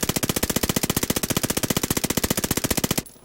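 Armaguerra submachine gun fired full-auto in a video game, a rapid, evenly spaced burst of loud close shots for about three seconds, then stopping abruptly into quiet.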